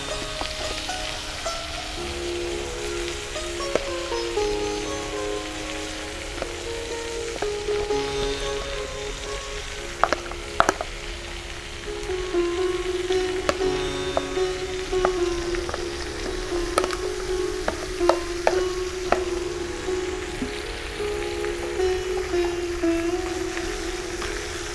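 Marinated cauliflower fries in hot oil in an open-air kitchen, giving a steady crackling sizzle throughout with scattered sharper pops and spits, moderately loud and with no talking.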